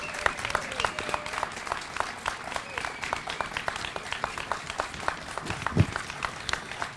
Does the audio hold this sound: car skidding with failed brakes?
no